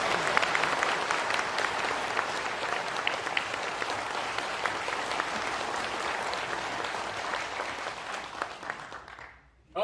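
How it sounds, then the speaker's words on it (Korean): Sustained, dense applause from a large audience at a Korean veterans' rally and special lecture honoring Vietnam War veterans, steady and loud for nearly ten seconds before tapering off abruptly. "두 분께 힘찬 박수를 부탁드립니다."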